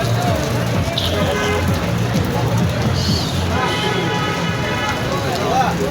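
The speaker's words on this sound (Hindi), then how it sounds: "बारिश काफ़ी सारी हो गई" Heavy rain pours steadily over a market, a constant loud hiss with faint murmur of distant voices and bustle beneath it.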